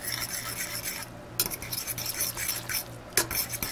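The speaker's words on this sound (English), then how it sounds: "I'm gonna give it a mixing." Instant noodles are stirred into red wine bolognese sauce, giving close, wet scraping and squelching with utensil clicks against the bowl in uneven bursts and short pauses between strokes.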